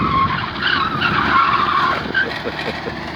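Tires squeal and skid as a car is driven hard in an advanced driving lesson, burning rubber in a loud, sustained screech that wavers and then trails off.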